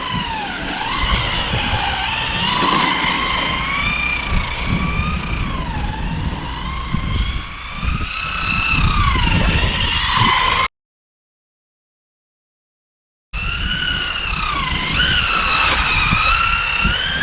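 A Maverick Quantum R RC car on SP Racing wheels with summer tyres in winter conditions races around, its electric motor whining and rising and falling in pitch with tyre skids, loud and close, cut by a short silent gap.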